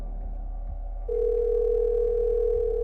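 A steady telephone tone sounds for the last two seconds, left unanswered. It is loud and continuous over a low hum, with no voices.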